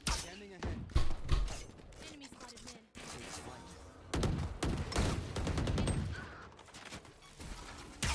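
Gunfire in the video game Valorant comes as sharp bursts of repeated shots, rapid and clustered, moderately quiet and mixed under ongoing talk from players.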